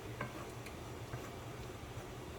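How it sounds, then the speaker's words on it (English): Chopped onions cook in a soup pot for creamy chicken noodle soup, giving off a soft, steady low sizzle with a few faint clicks of a utensil, and no one speaks. "We're just going to cook this for 3 to 5 minutes or so until the onions are translucent"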